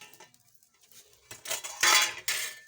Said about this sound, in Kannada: ಈ ತಾಟ್ ತೆಗಿತೀನಿ ನೋಡ್ರಿ